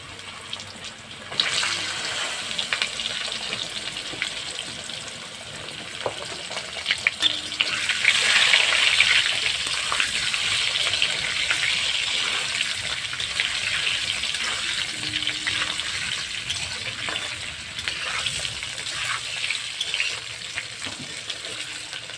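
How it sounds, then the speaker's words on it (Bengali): Cubed potatoes frying in hot oil with bay leaves and cumin, a steady bright sizzle that swells as the pieces go in, with occasional stirring scrapes and clinks, no talking. "আলুটা একবারে ফোড়ন করে ভেজে নেব।"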